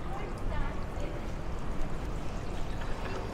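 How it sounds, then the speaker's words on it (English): Continuous rushing water from a monument waterfall in central London, splashing nearby, a steady broadband wash that fills the whole moment. "The monument here has a waterfall"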